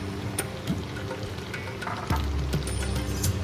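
Fried onions go into a pan of fenugreek chicken masala, a steady sizzle that swells suddenly partway through and keeps crackling, with stirring clinks in a home kitchen.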